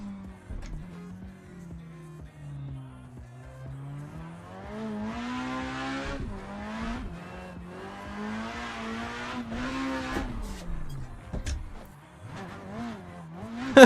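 A 700-horsepower drift car running slick tires revs hard on track, its engine note climbing and dipping in long sweeps, with bursts of tire squeal and skidding mixed in.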